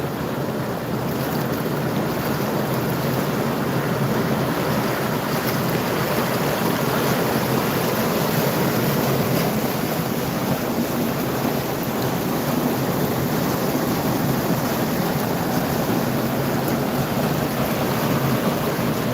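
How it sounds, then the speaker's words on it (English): The flooded San Juan River in Pagosa Springs, Colorado roars past at full spate, a loud, dense, unbroken rush of churning water that holds steady throughout, with no talk. "I've never seen the river this intense before."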